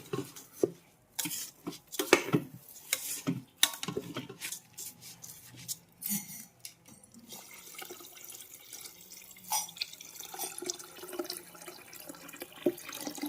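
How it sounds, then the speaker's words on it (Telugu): Water poured into a pot of masala-coated rice for pulao, quiet splashing bursts near the start that settle into a soft trickle, with a few faint utensil clinks and no talk. "బియ్యం అదేవిధంగా మసాలా మొత్తం కలిసేంత వరకు కలిపేసుకొని ఎసురు వాటర్ పోసేసుకుందాం"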